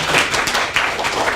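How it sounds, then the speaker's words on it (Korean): A seated audience claps for the chairman at a Korean academic discussion gathering, a short burst of dense, fairly loud applause close to the microphone. "우리 또 회장님한테 여러분 박수 한번 보냈습니다"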